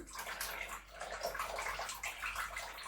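Lemon juice poured into a container of oranges in clove syrup, a steady liquid splashing and trickling close by for about three seconds, fairly quiet, with no talking.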